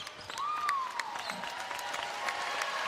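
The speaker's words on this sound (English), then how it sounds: "Round of applause starts to rain down here at Pauley" Crowd applause at Pauley Pavilion during a UCLA women's basketball game against Ohio State, a steady roar of clapping under an announcer's voice, with a referee's whistle-like tone sweeping through early on.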